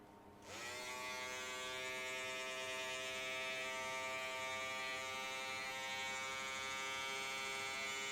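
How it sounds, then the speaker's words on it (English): Small Wahl hair trimmers switch on and run steadily with a loud, close electric buzz while outlining a man's neckline during a haircut, starting after a brief pause and holding a constant tone with no talking. "I'm gonna take these small trimmers. They're Wahl again, but they're peanuts."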